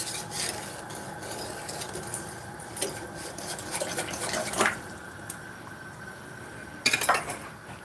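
Béchamel sauce in a pot is stirred with light scraping and clinking of a utensil against the pot, a low steady bubbling hum underneath, and a sharper clatter near the end, with no talking.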